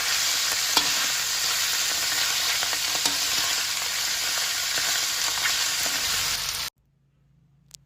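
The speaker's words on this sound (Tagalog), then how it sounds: "Ihalo-halo lang natin hanggang sa maluto" String beans stirred in a hot pan for creamy adobo with tofu, a steady loud sizzle with scraping strokes throughout that cuts off abruptly near the end, leaving quiet room tone.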